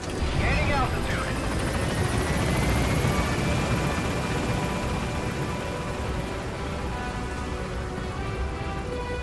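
A helicopter climbs away in Metal Gear Solid V: The Phantom Pain, its loud rotor and turbine roar steady and broadband throughout, with a voice talking over it.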